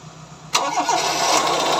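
A car engine cranks and catches after a brief quiet moment, then settles into a steady mid-pitched run with a rough, abnormal mechanical noise layered over it, close and loud.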